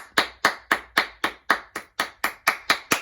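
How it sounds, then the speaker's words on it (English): Rhythmic hand claps keep a steady beat along to a children's rhyme, about a dozen crisp, evenly spaced claps close by with no talking over them. "Everybody clap your hands."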